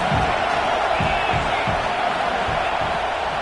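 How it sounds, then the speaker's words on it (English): Home stadium crowd roaring in the College Football 26 video game, a loud continuous wash of cheering with rhythmic low thumps pulsing through it, a commentator talking over the din. "how nice is it to have the home crowd going absolutely bananas?"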